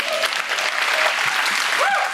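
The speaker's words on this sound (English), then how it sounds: "Mathieu, Laura, a big round of applause, please." Steady audience applause at a soft power talks event, a dense wash of many hands clapping at moderate distance, with a faint voice and brief whistle-like tones on top near the end.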